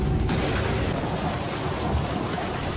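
Heavy rain pours down during a night thunderstorm, a continuous loud wash of water with deep rumbling underneath, steady from start to finish and free of voices.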